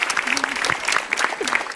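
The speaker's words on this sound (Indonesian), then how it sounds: "Tepuk tangan dong buat Mbak Widi ya" A stand-up comedy audience applauds in a television studio, dense clapping close and fairly loud throughout, with a voice briefly heard over it.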